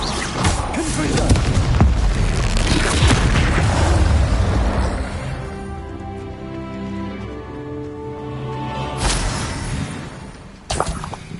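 Confringo blasting spell in Hogwarts Legacy detonating as a loud, close booming explosion with a rumbling burst that slowly decays, followed by further sharp blasts near the end.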